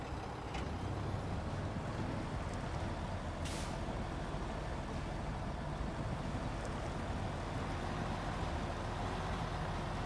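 A Mack Defense truck engine in the video game SnowRunner drones in a steady low rumble throughout, with a brief hiss like an air brake partway through.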